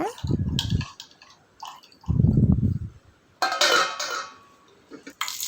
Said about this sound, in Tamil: இப்போ இதை நல்லா கலந்துட்டு ஒரு மூடி போட்டு மூடி வச்சுருங்க